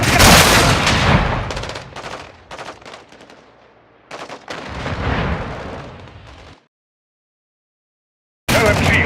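Light machine gun fire in the Call of Duty Modern Warfare II video game, heard as loud, rapid rattling bursts that break off briefly, then fall silent before one more sharp burst at the end.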